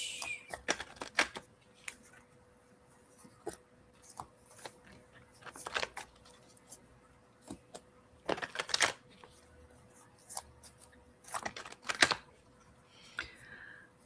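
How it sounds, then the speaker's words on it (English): Playing cards being shuffled during a tarot-style card reading, in several separate bursts of riffling and slapping spread across the clip, close and fairly quiet with pauses between. "Shuffling the cards."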